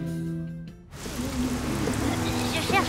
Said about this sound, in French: Il a oublié de fermer sa fenêtre et il pleut chez lui.